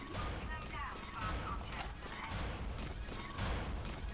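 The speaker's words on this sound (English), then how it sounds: "Looks like that door is malfunctioning, Isaac" A malfunctioning door mechanism in the video game Dead Space 2 grinds and clanks continuously, with repeated metallic creaks and thuds that run loud through the whole stretch.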